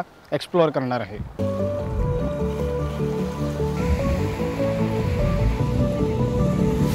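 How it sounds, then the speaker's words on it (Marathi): Ocean surf rolls steadily onto Malvan beach at sunset with a continuous wash of waves. Someone speaks briefly at the start before the surf carries on alone at a fairly loud, even level. "समुद्राचा पण एकदम मस्त असा आवाज येतो आहे"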